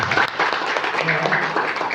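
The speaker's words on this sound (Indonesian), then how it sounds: "Tepuk tangan buat orang Serang." An audience claps for the people of Serang, a busy patter of many hands at a gathering, with voices mingling underneath.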